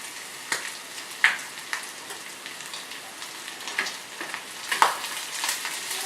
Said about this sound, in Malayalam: അത് നന്നായിട്ട് ഇളക്കി കൊടുക്കുക